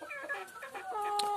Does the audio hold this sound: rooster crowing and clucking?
yes